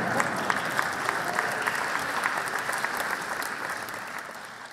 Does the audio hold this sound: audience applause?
yes